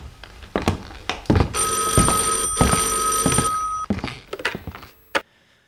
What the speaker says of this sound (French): Vous répondez, monsieur Bexley? Vous êtes le plus près du téléphone.